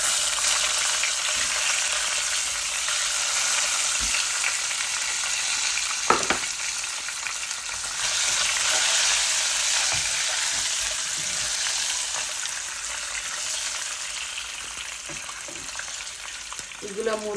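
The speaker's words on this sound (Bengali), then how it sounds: "এখন আমি ডিমগুলা ভাজি লাই।" Eggs frying in a pan for an egg bhuna, a steady broadband sizzle running throughout with a few faint clinks and utensil taps, close and fairly loud.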